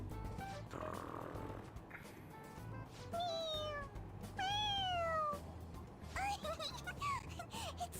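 A cartoonish cat in Persona 5 Royal gives several rising, wavering meows interspersed with snoring and snorting sounds, fairly close and clear, with a few quieter rustles between calls.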